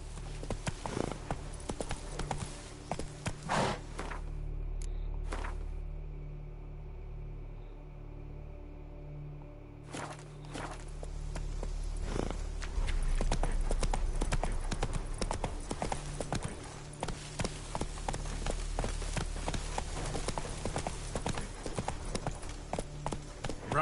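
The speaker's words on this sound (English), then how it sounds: "Run, Roach" Horse hooves clip-clop steadily at a gallop across terrain in The Witcher 3, a continuous rhythmic patter lasting throughout, with a brief lull midway and faint game ambience beneath.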